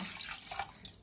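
Water is poured into a pot of canned corn during cooking, a brief, quiet splash and trickle lasting about a second.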